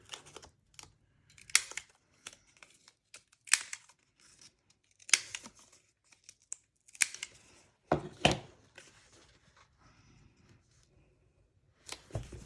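Scissors snip the corners of paper for a reading journal setup, with sparse close crisp cuts and small paper rustles spread out among quiet gaps.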